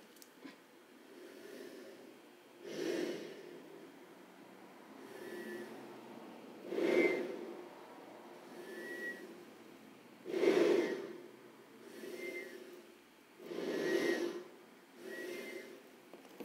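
Repeated breaths into an ESP32-based spirometer, each a soft rushing puff about every three to four seconds, close and fairly quiet, with no talking.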